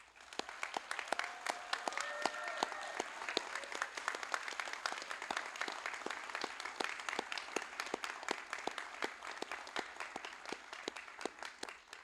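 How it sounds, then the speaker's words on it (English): A crowd at a military A-School graduation ceremony applauds steadily for about twelve seconds, a dense patter of many hands clapping at an even level throughout. "giving them a warm round of applause"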